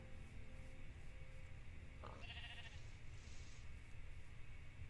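A sheep bleats briefly in the Minecraft video game, a short synthetic bleat rising midway over a steady, loud ambient game background.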